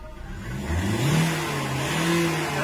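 A car engine with four newly replaced injectors revs up from idle in a repair shop. The pitch climbs smoothly and then holds at a loud, steady rev close to the microphone, with no talk.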